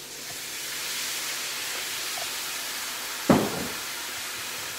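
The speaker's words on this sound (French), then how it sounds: "Je vais déglacer qu'un tout petit peu de vin blanc." White wine hits a hot pan while deglazing for a scallop cassolette, giving one sudden sharp sizzle that fades over about a second against a steady hiss of background noise.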